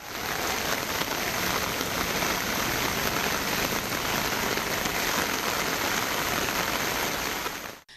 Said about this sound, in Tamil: பலத்த காற்று, இடி மின்னலுடன் பலத்த மழை பெய்தது